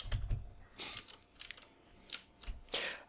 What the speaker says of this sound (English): What are you pressing on your your keyboard?